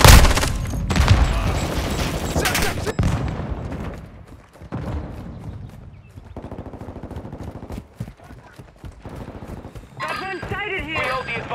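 Gunfire in a Call of Duty game: dense bursts of automatic fire and sharp single shots near and loud, thinning to scattered distant cracks, with in-game voices calling out over the action.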